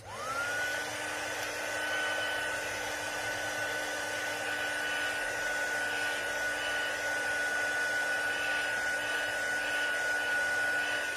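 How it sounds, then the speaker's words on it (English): A loud, steady whirring drone of a heat tool drying watercolour paint blows continuously up close, with a high whine riding on top throughout. "I will speed up the process with my heat tool just a little bit."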